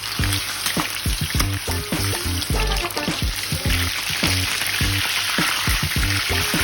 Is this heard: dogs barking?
no